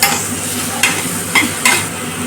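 Green chillies and capsicum fry in a pan for chilli chicken, a steady close sizzle broken by three or four sharp stirring scrapes.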